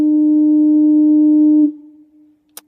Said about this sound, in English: The world's most annoying foghorn.